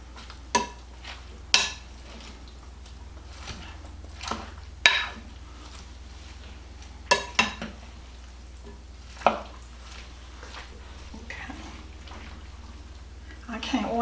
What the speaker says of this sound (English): So now then I'm going to mix this all up.